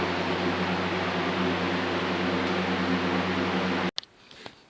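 A spray gun sprays gray paint on the doors of a 1956 Ford pickup: a steady, loud hiss runs for about four seconds, then cuts off abruptly, leaving quiet room sound with a few faint knocks.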